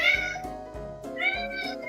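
A black house cat meows repeatedly up close, giving several loud, clear meows in a quick, chatty sequence.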